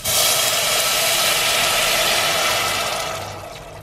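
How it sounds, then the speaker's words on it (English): Broth, about a liter from a container, poured into a soup pot with browning ginger, giving a loud, steady rushing hiss close by that fades out near the end. "it is ready to pour the broth in"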